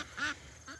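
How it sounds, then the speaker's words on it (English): Ducks on a homestead quack in two short, fairly faint calls, a rasping burst followed by a softer one after a brief pause, with nothing else going on around them. "the geese, the ducks."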